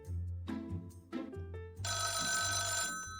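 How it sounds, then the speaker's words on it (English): Telephone bell ringing in the horror game Dial 666: The Paranormal Crisis Hotline, several bright electronic rings in a row that grow into one sustained loud ring, close and clear with no talking. "A phone call?"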